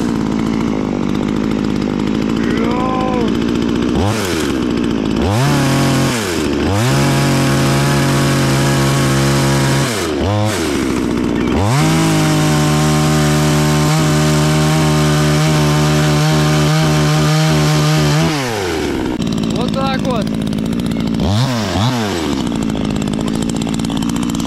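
A chainsaw cuts firewood at a riverside campsite, loud and close, its motor dropping to idle between cuts and then revving up hard again for several long bursts.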